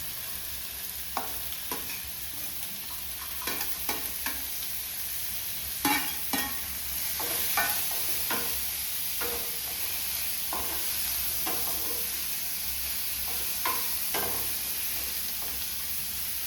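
Tomato deep-fries in hot oil in a pan under a steady hiss, with repeated scraping and clinking strokes from stirring scattered throughout.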